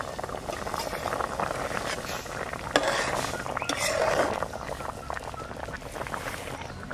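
A lid clinks onto a pot of simmering hilsa fish curry with green chillies, a short metallic knock over a soft, continuous bubbling and sizzling.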